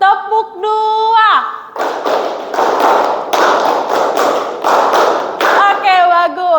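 A classroom of students claps out the tepuk dua rhythm together, a loud, steady series of sharp clustered claps in pairs, framed by voices speaking at the start and end.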